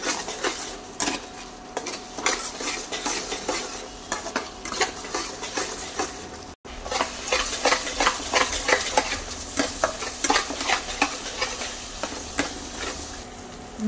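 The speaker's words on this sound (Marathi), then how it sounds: "मसाला चांगला हलवून घेऊया। चांगलं तेल सुटोस तर हे भाजून घेऊया।" A spoon scrapes and stirs masala frying in hot oil in a kadhai for a fish curry. Clinks and scrapes repeat over a steady sizzle, close and continuous.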